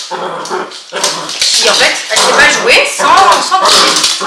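A small female dog, a miniature pinscher kept in an apartment, whines and yaps while tugging at a toy, her high whimpers and yips close and loud under someone speaking French.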